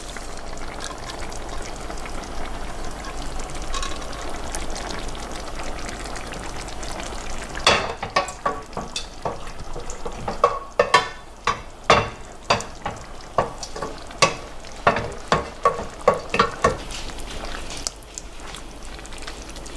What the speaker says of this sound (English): I'm going to add the rest of my tomato sauce back in this pot